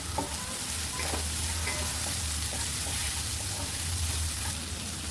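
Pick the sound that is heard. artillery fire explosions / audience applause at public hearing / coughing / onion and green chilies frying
onion and green chilies frying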